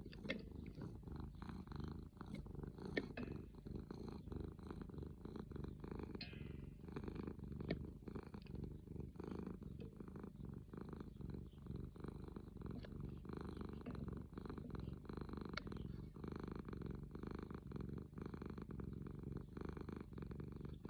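A cat purrs steadily and close for the whole stretch, a continuous low rumbling drone with no voices over it.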